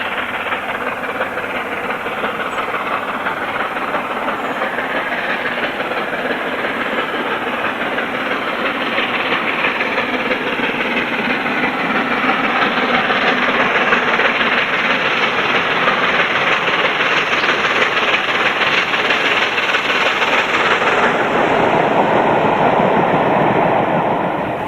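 Steam locomotive Number 9 hauling the Cathedrals Express from Alton toward Stratford roars past in a dense, steady, loud rush of exhaust and running noise that holds throughout, alone without voices.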